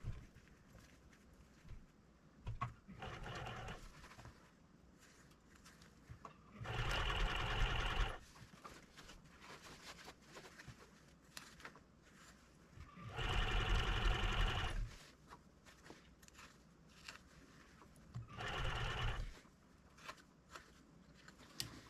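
Sewing machine stitching a fur hunting muff, running in three loud bursts of steady rapid stitching separated by quieter pauses with faint handling of the fabric.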